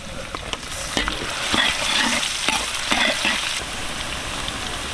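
Onions and curry leaves in cooking oil with masala, sizzling steadily while a spoon scrapes and clatters through the pan in irregular strokes, close and fairly loud.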